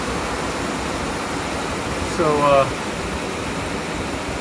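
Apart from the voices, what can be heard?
rough river rushing after heavy rain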